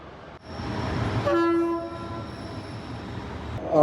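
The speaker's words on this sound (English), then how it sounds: "looks like our Dogu Express train has just arrived" The Dogu Express passenger train pulls into a station in Turkey with a rumbling rolling noise and a short, clear horn blast in the middle, the rumble continuing afterward.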